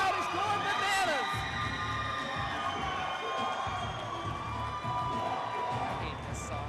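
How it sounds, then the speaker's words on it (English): Wrestling event crowd at an indie showcase cheering and shouting continuously, a loud dense roar with music and voices mixed in throughout. "Oh my, this crowd is going bananas."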